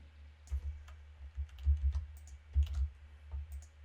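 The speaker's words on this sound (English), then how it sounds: "I just have to type something." Typing on a computer keyboard while editing a WikiTree family tree profile, heard as a few close bursts of soft key clicks with short pauses between them, with no talking.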